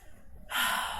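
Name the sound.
breathing during a yoga stretch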